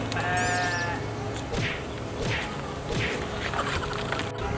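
A goat bleats several times in short, wavering cries spaced about a second apart, fairly close, over a steady droning background hum.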